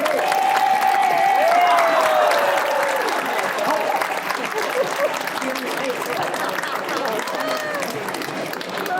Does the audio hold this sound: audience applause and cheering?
yes